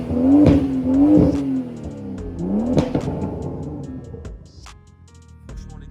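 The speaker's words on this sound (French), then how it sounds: "Ah, le bon bruit du 6 cylindres les gars" BMW 135i six-cylinder engine revving through a four-pipe exhaust, two sharp blips rising and falling, then a longer rev easing off into idle, loud and nearby.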